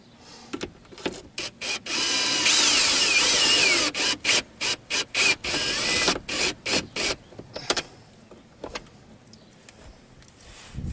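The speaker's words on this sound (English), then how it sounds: "Just sit the socket on the ratchet." A ratchet wrench with a socket clicks as it turns, used while replacing a Morse-type boat steering cable and helm. A long continuous whirring run is followed by a series of short bursts, then scattered clicks and handling noises.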